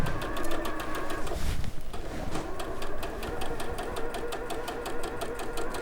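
A sewing machine stitches fabric in a steady, rapid, close mechanical rattle that runs continuously, briefly easing around the middle before picking back up.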